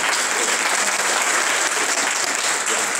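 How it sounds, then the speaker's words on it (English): Audience applause at a college skills training session in Andhra Pradesh, a steady dense wash of clapping throughout, loud and close, with no voices over it. "give them a huge round of applause"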